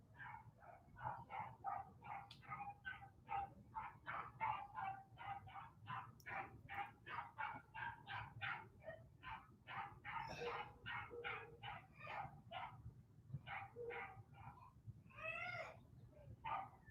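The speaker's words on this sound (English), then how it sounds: "We got a dog gone wild on New Jersey Street." A dog barks repeatedly at a distance outdoors on a city street, a long run of steady, evenly spaced barks with a few higher yelps mixed in, faint against low background rumble.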